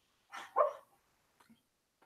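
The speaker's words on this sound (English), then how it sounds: "And can you hear the dog now?" A sleeping, dreaming dog gives a muffled short bark-like whimper, then a couple of faint soft yips, close and quiet against silence.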